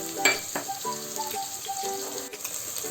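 Onion and green chilies sizzling in a hot pan while being sautéed, a steady frying hiss with a few clinks of a spoon against the pan.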